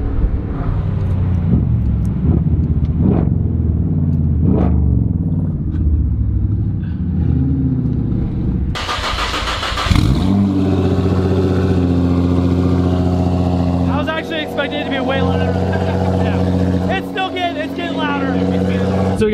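A stage 3 Audi S6 engine rumbling while driving, a loud steady drone that shifts pitch midway as revs change, with people talking inside the car over it.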